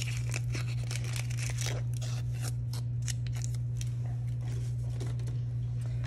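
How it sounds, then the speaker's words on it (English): Dry papery onion skin being peeled away by hand in a kitchen, a run of close, crisp crinkling and tearing rustles over a steady low hum, with no talking. "And then just go ahead and peel that other layer of paper off."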